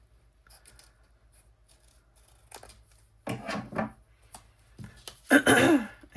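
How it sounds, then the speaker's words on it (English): Scrapbook paper being trimmed during a page-making workshop: two short bursts of crisp cutting and slicing in a quiet room, the second bursts louder and busier, with faint handling noises between. "Trim that down."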